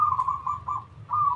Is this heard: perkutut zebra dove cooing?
yes